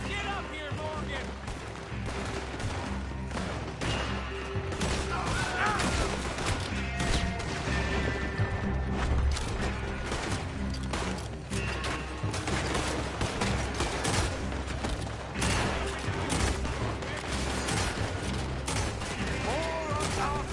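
Gunfire rattles through a shootout in the video game Red Dead Redemption 2, with dense, continuous volleys of shots over about twenty seconds and game music and voices mixed underneath.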